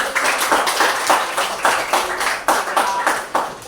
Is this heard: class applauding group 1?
yes